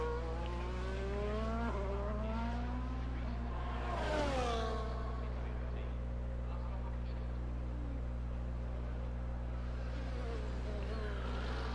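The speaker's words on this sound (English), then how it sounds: "here comes the Ferrari into the pit lane" A Ferrari race car in a sim racing game on a Portugal circuit rolls into the pit lane, its engine pitch sweeping and fading beneath a steady low drone while a commentator talks over it.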